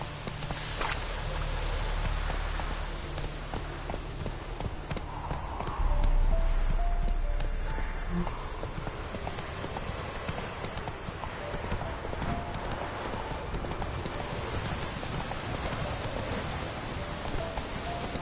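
Roach, the horse in The Witcher 3: Wild Hunt, gallops with fast, steady hoofbeats while rain patters in the background and faint voices come and go.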